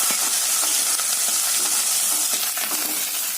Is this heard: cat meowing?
no